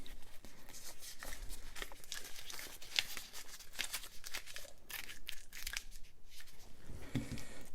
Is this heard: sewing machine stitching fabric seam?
no